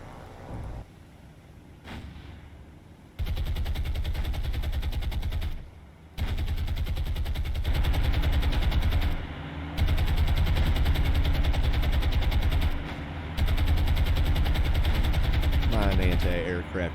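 Anti-aircraft guns fire in the naval combat game War on the Sea, loud sustained rapid bursts that start and stop in long stretches, with a low rumbling roar underneath and short quieter pauses between volleys.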